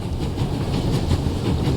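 A passenger train on the Orient Express runs at full speed in The Raven: Remastered, giving a steady, loud rumble with a faint rhythmic clatter throughout.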